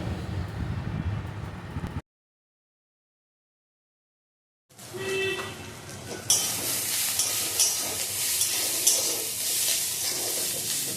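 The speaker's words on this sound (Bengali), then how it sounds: "পেঁয়াজটা প্রায় ভাজা হয়ে এসেছে।" Onions fry in a pan for a chicken curry: a steady, fairly loud sizzle with stirring scrapes, which breaks off into a silent gap before returning stronger and fuller.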